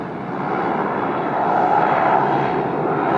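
A Qantas airliner rolling along runway 34 Left at Sydney Airport gives off a steady, broad engine roar that swells slightly midway, heard from a moderate distance with no talking.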